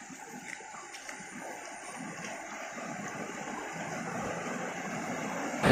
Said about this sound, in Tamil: இந்த அருவியில் எல்லாம் வர்ற சத்தம் மாதிரி தான் இப்போது நீங்கள் அந்த சத்தத்தை உணர்றீங்க